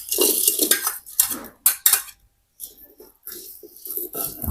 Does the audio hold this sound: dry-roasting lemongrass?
yes